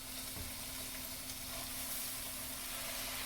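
Spinach, garlic cloves and lentils sizzle together in a cooking pot for squash soup, making a steady, fairly quiet broadband crackle with a constant hum underneath and no talking.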